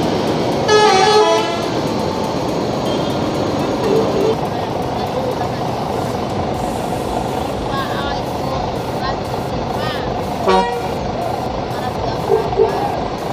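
An ANS intercity bus on the Padang–Jakarta–Bandung route pulls out of Poris Plawad terminal amid a constant engine and crowd din, its horn blaring in several short melodic toots, with people talking throughout.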